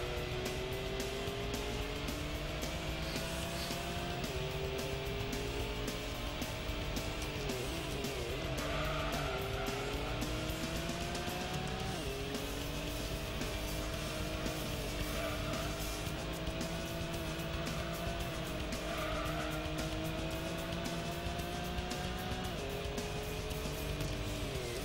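A car in Gran Turismo 1 on the PS1 brakes and slides sideways. The engine drones steadily while tire squeals rise repeatedly over it.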